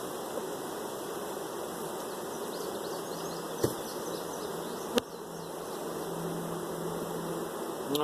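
Honeybees buzzing steadily in and around a nuc hive, a dense, even drone filling the whole stretch, broken by a couple of sharp knocks from handling the box.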